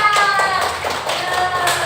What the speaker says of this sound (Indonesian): Tepuk tangan buat Mas Farah dan Mas Adam